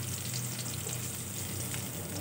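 Chopped onions sizzling in hot oil in a pan for prawn do pyaja, a steady, close, loud crackle with no talking over it.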